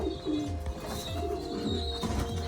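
A cock pigeon coos close by in a loft, repeating soft, low, rolling coos in a steady rhythm, with faint background hum and a few other bird sounds.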